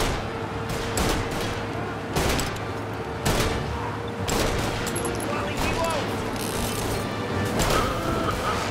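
Loud rapid gunfire from the video game Mafia Definitive Edition, with heavy repeated shots and bursts at regular intervals over a constant noisy background and occasional faint talk.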